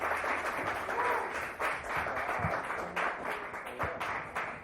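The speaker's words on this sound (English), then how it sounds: "Another round of applause for Dana Olita." An audience applauds at a dive bar comedy show at Lotus Lounge, with dense, steady clapping at moderate distance filling the room throughout.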